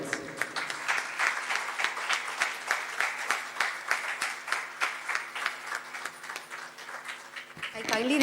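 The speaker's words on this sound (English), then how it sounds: "Please give him a huge round of applause." A conference audience applauds after a speaker is honoured at a craniofacial pathology and biology event, with sustained rhythmic clapping from a crowd that continues strongly throughout.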